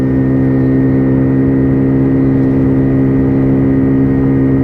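A white WK Colt 50cc motorbike engine held at full throttle on a test ride gives a steady, loud, buzzing drone that stays close and even throughout, with no talk.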